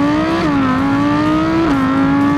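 Audi R8 engine accelerating hard, a loud, steady high-pitched roar that climbs in pitch and dips twice at gear changes, heard close and alone.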